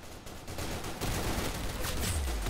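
Gunfire from the Roblox shooter Arsenal, a dense burst of shots that builds from about one second in and runs loud and continuous to the end, with no talk over it.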